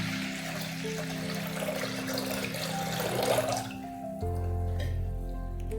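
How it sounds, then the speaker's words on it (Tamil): Water runs and splashes steadily into a cooking pot for drumstick sambar, then the flow changes abruptly to a deeper, fuller pour near the end. "இப்போ தேவையான அளவு தண்ணி ஊற்றணும்."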